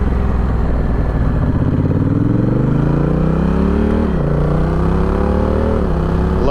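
Honda Rebel 1100 motorcycle fitted with a Coffman's exhaust accelerating hard through the gears, its loud engine note rising in pitch, dipping at each shift, then climbing again, close and alone.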